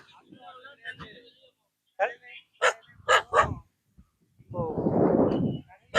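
A white dog barks while chasing someone, a few sharp close barks in a cluster followed by a longer rough growling bark, with fainter noisy sounds before them.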